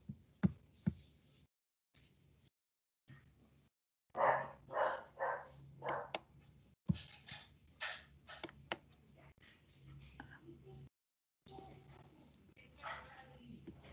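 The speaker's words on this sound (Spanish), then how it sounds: "el perro. Una bulla terrible, pues no puedo dictar clases" A dog barks in a room during a class lecture, with several sharp barks and yips rising through the middle. A person's voice keeps talking over the noise.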